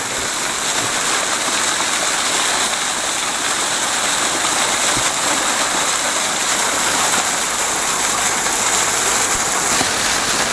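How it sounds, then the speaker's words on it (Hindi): Steady rushing water from a small roadside waterfall in the rainy season near Shimla fills the whole clip, a constant close splashing hiss with no voices. "जगह जगह आपको इस तरह का छोटा मोटा वाटरफॉल देखने को मिलता है।"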